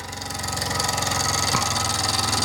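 An old engine runs down after its burner is removed, a steady close mechanical chug with a regular beat that continues throughout, with no voices.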